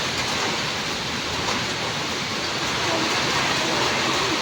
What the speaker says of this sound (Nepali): असिना